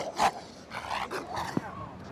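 A trained military attack dog guarding a British troop base gives a few deep, rough barks and growls at close range, spaced unevenly across a couple of seconds.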